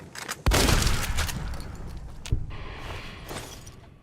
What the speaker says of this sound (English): Shotguns are so fun in this game.